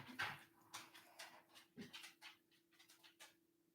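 A dog whimpers and pants up close, a series of short breathy whines and huffs with uneven pauses over a faint steady hum; no one speaks.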